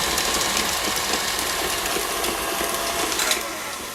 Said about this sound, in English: I'm going to beat the butter and the cream cheese on high speed until it's creamy.